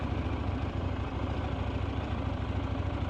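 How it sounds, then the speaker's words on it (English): A 2024 KTM 990 Duke motorcycle idles with a low, steady pulsing engine rumble, quiet and even, with no voices over it. "now I'm going to take 990 Duke out for a ride and give you my impressions"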